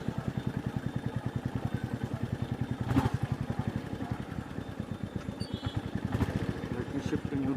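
Royal Enfield Meteor 350 motorcycle riding along a worn village road, its single-cylinder engine thumping in a steady rapid pulse throughout, close and loud, with road clatter and occasional bumps.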